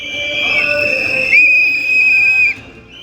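A district official walks village lanes blowing a whistle, giving a loud, shrill sustained blast of about two seconds that wavers slightly partway through, while a faint murmur of voices sits underneath.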